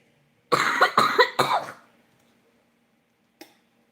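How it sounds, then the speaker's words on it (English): A person coughs three times in quick succession, close and fairly loud, followed by a brief quiet pause and a small throat sound. "I was trying to avoid coughing"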